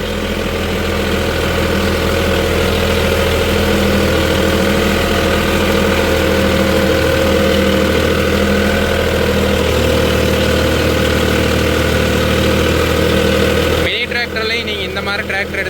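A Mahindra OJA 3140 40 HP 4WD tractor running during rotary puddling work in a farm field, a steady loud engine drone with constant low vibration throughout, shifting in character near the end.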